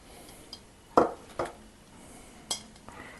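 Glass jars being readied in a kitchen clink and knock against each other and the counter in a few sharp, separate taps, quiet and close.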